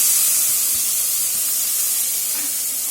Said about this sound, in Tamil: இந்த ரெண்டும் போட்டு ஒரு கருவேப்பிலை கொத்து போட்டு வதக்கிக்கலாம்